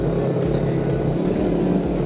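An Italika FT 125 classic motorcycle, a 125 cc bike, is being ridden with its engine running in a steady, buzzing drone and low rumble under wind noise, holding even loudness throughout.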